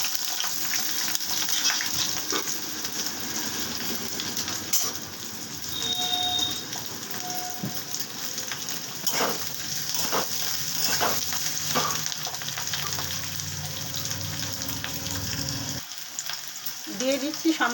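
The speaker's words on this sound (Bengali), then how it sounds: "কড়াতে তেল দিয়ে দিয়েছি, তেলটা গরম হয়ে গেছে, দিয়ে দিচ্ছি পেঁয়াজ কুচি।" Chopped onions frying in hot oil in a kadai give a loud, continuous hissing sizzle, broken by occasional stirring scrapes and clinks, with a brief voice now and then.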